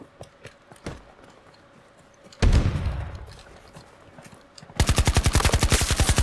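AK rifle fire in a video game: a single booming shot with a long decaying echo, then a rapid, loud automatic burst of evenly spaced shots, preceded by faint clicks and steps.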